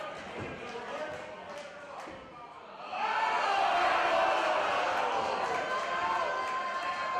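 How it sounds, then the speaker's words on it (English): A crowd at a live wrestling event roars and cheers; after a quieter first few seconds the noise surges loud and dense and stays high, with voices talking over it. "This crowd is alive, Colt."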